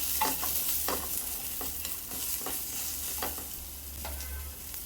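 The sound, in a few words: dried red chilies added to a hot pan, sizzling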